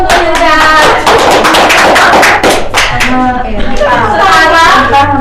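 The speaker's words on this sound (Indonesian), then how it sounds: "Beri tepuk tangan untuk Hilda" Classroom applause during a primary-school microteaching lesson, a dense burst of many hands clapping close and loud for a few seconds, mixed with children's voices and a teacher speaking over it.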